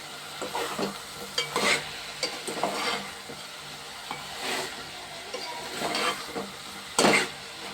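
Drumstick and chilli pieces fry in an oiled pan, giving a steady sizzle broken by stirring scrapes and a few louder clatters, close up, with no talking.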